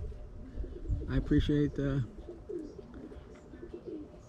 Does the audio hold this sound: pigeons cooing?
yes